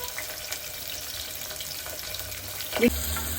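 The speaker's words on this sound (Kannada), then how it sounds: "ಎಣ್ಣೆ ಚೆನ್ನಾಗಿ ಕಾದಿದೆ ಅಂತ ಈರುಳ್ಳಿನ ಹಾಕೊಳ್ತಾ ಇದೀನಿ" Onions fry in hot oil for mutton gravy, an even close crackling hiss that runs throughout, with one soft thump near the end.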